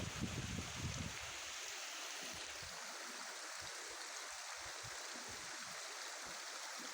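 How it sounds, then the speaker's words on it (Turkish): A small trickling stream at the start of the trail to Dereova waterfall, a soft steady broadband wash of flowing water heard alone, slightly stronger in the first second, with faint low knocks scattered throughout. "Minik minik akmaya şelalemiz daha yolun girişinden başladı."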